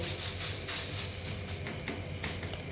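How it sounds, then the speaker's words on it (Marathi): Raw potato batter hisses and sizzles steadily on a hot griddle as it is spread with a spoon, a close, continuous frying crackle with faint scraping strokes. "तवा जो आहे गरम आहे म्हणून मी अशा प्रकारे चमच्याच्या साहित्याने अशा प्रकारे पसरवून घेत आहे"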